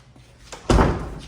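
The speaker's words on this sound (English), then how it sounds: "to close the door" A door in a Durham, North Carolina home closes with one solid, fairly close thud after a few soft handling sounds, leaving a short decaying rumble.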